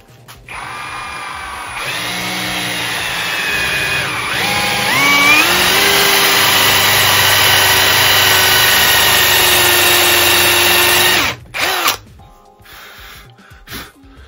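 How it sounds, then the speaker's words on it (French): A drill press bores a 12 mm hole in a rosewood workpiece held in a vise, a loud, steady motor whine that rises in pitch as it spins up, holds for several seconds, then cuts off with a few clunks. "Allez, on perce un trou de 12."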